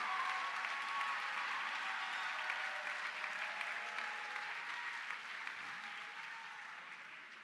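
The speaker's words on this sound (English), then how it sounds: "Please give a round of applause to our magna cum laude students." A high school honors convocation audience applauds magna cum laude graduates with a long, steady roar of many clapping hands in a large hall, sustained and even before slowly thinning toward the end.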